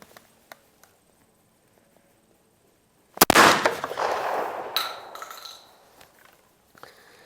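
A Benelli Ethos Super Sport shotgun with an Advanced Impact barrel fires once at clay targets, a single sharp, loud, close blast with a ringing tail after quiet faint clicks.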